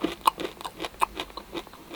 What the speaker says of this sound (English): let's grab one of our M&Ms here and we'll see how loud the crunch is